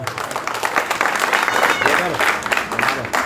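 Applause from a crowd at a BSP political rally in Haryana, clapping continuing steadily while a voice speaks over it.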